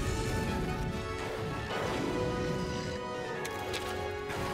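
An explosion crashes out during a battle in the video game Monster Hunter Stories 2: Wings of Ruin, a loud broadband burst over continuous game music and effects.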